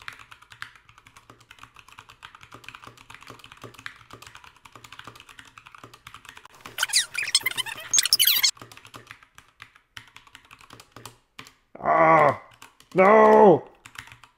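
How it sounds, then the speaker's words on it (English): Fast typing on a computer keyboard during a typing speed test, rapid dense clicking in a short burst, then two brief bursts of speech-like sound near the end over a quiet room. "I'm going to test my typing speed."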